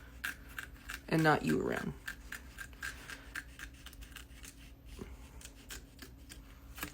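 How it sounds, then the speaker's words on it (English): Scissors snip through applique fabric held in an embroidery machine hoop, a short crisp cutting burst followed by faint rustling and handling sounds while someone talks quietly. "you're able to sneak those scissors in and cut it really easily"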